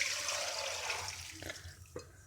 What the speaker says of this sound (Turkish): Sumağımızı süzüyoruz